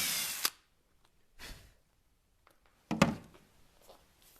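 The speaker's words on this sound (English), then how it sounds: "Gonna drill this guy out a little bit further." A countersink bit drills a screw hole in a cabinet during a dishwasher installation. There are three short, sharp drilling bursts, close and fairly loud, with quiet pauses between them.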